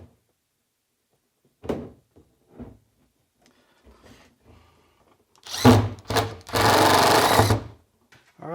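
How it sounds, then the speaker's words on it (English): Screws are driven into the chute of a Clearview dust collector: a few faint taps and clunks, then two loud whirring bursts of a powered driver, the second one longer and sustained. "So I'm trying to screw it in"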